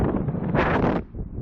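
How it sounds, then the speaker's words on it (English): Wind buffeting a microphone outdoors, rough low rumbling gusts that swell briefly and then drop off. "A little windy today"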